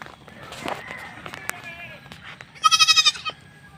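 Soft rustling and scattered footsteps come first as goats are herded in the rain, then a goat lets out a loud, wavering bleat near the end.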